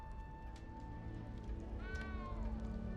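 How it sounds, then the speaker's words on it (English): A small cat in Hogwarts Legacy gives a single rising and falling meow near the end, heard over a steady in-game ambient hum and low rumble. "You don't need to be frightened, little cat."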